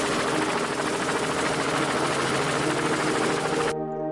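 A helicopter roars loudly and continuously, with rapid rotor chopping over a dense engine drone, then cuts off abruptly near the end.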